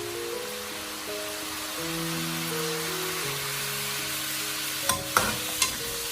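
Sweet and sour pork ribs with aged vinegar sizzling and bubbling in a wok over high heat as the sauce reduces, a steady soft frying hiss with a few sharp utensil clinks near the end.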